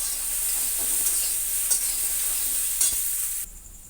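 Potatoes for aloor dom stirred in a frying pan, a bright continuous sizzle with intermittent scraping strokes, close and steady before the sound drops away near the end.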